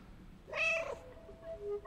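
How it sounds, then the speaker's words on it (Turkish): A cat meows in the video game Stray, one clear, fairly close meow in the middle of the clip, followed by faint tonal game sounds. "Miyavla ona. Miyavla."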